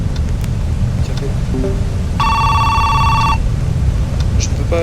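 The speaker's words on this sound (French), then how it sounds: "Je ne peux pas éteindre le téléphone." A telephone rings with a steady electronic bell tone for about a second inside a French-language video game, over a constant ambient background with brief faint chirps before and after.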